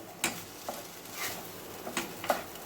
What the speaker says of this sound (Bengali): ডালিয়াটাকে আমি এই ঘিয়ের মধ্যে একটুখানি ভেজে নেব, যাতে একটু ভাজা ভাজা হয়ে যায়